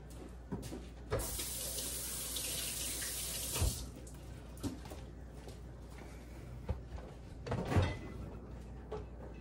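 A kitchen tap runs while something is washed off under it during cooking, the water gushing hard into the sink, pausing, then returning in uneven bursts with clunks and knocks, close by and without talk.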